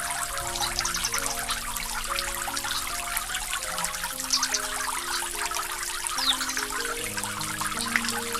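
A small tap on a water tank in a toy doll house lets out a steady, continuous trickle of running water, close and even throughout, with a faint musical tone drifting underneath.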